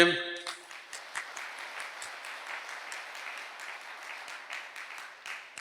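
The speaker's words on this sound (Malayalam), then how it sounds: "ഒന്നുകൂടെ കൈയടിച്ചേ" An audience claps steadily for several seconds at a priest's talk, a dense, even patter of many hands after a brief voice at the start, fairly close and moderately loud.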